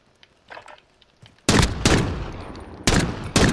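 Gunfire in a Call of Duty Modern Warfare Gunfight match: after a quiet, scuffling lead-in, four loud, sharp shots ring out close by, spaced unevenly, each with a short decaying tail.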